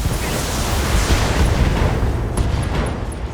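Ammunition in a mech cooks off in the BattleTech video game, giving a loud, dense, continuous rumble of explosions with scattered sharper pops, sustained and close.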